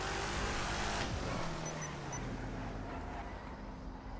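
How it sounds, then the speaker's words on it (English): A loud car engine droning in GTA V roleplay on NoPixel, a dense rumbling hum with a downshift-like falling tone early on, steady and close without talk. "This car's loud as fuck."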